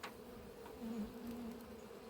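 Buzzing of a wasp flying around an apiary beehive, a steady close insect drone that rises briefly louder as it passes near, with no talking.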